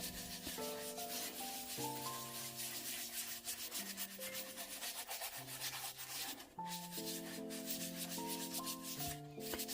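A vinyl Baby Dear doll by Vogue being scrubbed with The Pink Stuff cleaner, giving steady, close rubbing and scouring strokes that continue through the whole stretch under background music, with no talking.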